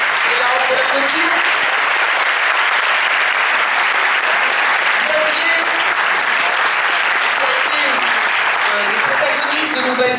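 Loud, dense applause from a large audience welcoming a guest at an animation film masterclass, a steady unbroken wash of clapping that stays close and constant throughout, with faint voices underneath.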